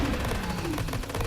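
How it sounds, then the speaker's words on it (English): A submachine gun fires in the Greedland horde survival game, a fast continuous stream of shots blended with dense game effects for just over a second. "get my submachine gun firing off"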